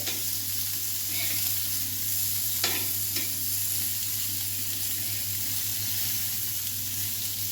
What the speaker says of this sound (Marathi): छान कारले फ्राय झाले आहेत आपले